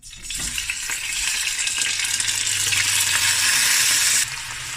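Oxtail pieces dropped into a hot pan on high heat, giving a steady, loud, close sizzle of frying meat that rises after a brief first crackle and carries on alone without talk.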